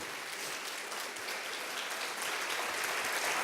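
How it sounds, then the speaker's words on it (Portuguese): A church congregation applauds together, a fairly soft, steady wash of many hands clapping that holds evenly from start to end, heard from some distance with no voices. "dá um aplauso a ele"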